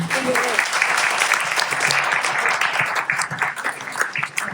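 Sustained applause from a community clinic meeting audience, dense and steady clapping filling the room at a fairly loud level throughout, with no one speaking over it.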